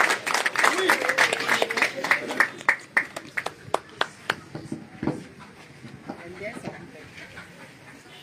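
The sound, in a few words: audience applauding for the secretary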